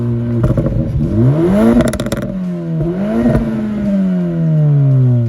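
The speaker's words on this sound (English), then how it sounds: "they've actually tuned the engine to do some cracks and pops, and it sounds fantastic" A 2024 Acura Integra Type S engine, tuned for cracks and pops, revs loudly up and down, rising and falling in pitch, with a burst of crackling pops midway through.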